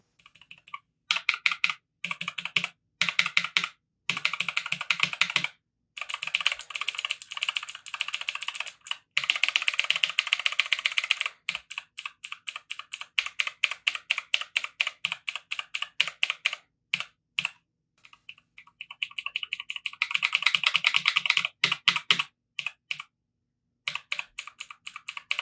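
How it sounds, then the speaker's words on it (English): Typing on a budget Havit HV-KB389L RGB mechanical keyboard fitted with clear O-rings on its keys: quick bursts of close, crisp keystrokes with short pauses between runs, heard alone without voices. "We're going to pop a clear O-ring on one of these keys so you can hear the kind of difference you can"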